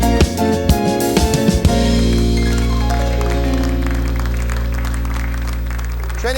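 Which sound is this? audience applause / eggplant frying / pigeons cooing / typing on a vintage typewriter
audience applause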